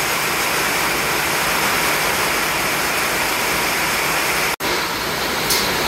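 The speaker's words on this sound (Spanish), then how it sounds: "Se nos vino el agua" Flood water rushing across a ranch, a steady loud broadband roar that fills the whole stretch with only a momentary dropout near the end.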